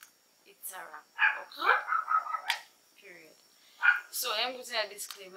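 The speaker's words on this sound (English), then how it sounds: "You will hear my dog barking." A dog barks a few times at night indoors, sharp brief yaps under a woman's close, continuous talking.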